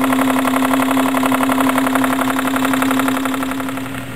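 Small engine fitted with a displacement lubricator runs at a steady pace, with a fast, even, mechanical beat and a constant tone, close up and alone.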